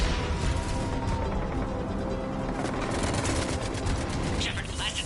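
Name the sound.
gunfire in Mass Effect 3 video game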